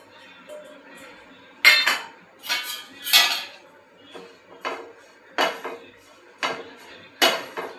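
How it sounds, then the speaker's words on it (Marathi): Dal being dry-roasted in a pan, heard as a series of sharp scraping and clinking strokes of a utensil against the metal pan, spaced irregularly and fairly close. "आता मी इथे डाळ्या भाजून घेते."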